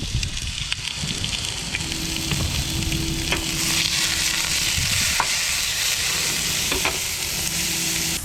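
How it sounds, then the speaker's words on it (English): Onion, garlic and capers sizzling in smoking-hot olive oil, a loud continuous frying crackle with occasional stirring clinks, close up and without talk. "Sizzle them away nicely, which is already starting"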